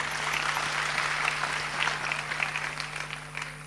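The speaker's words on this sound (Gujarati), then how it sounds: "કીર્તિભાઈને એકવાર તાળીઓથી વધાવો સાહેબ." An audience at a Gujarati comedy show breaks into sustained applause, many hands clapping in a dense, even patter that fades slightly toward the end, with a low steady hum underneath.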